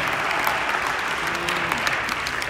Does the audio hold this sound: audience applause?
yes